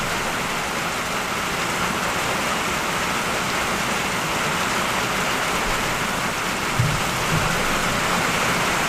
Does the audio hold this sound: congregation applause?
no